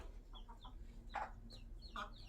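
Hens on a chicken farm give a few soft, close clucks and short calls, brief and fairly quiet against a low background hum.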